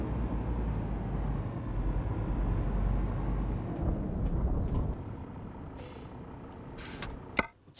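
A truck's air brakes let out a long loud hiss as it comes to a stop in a trucking game with an environmental sounds mod, over a low engine rumble and followed by a few short clicks.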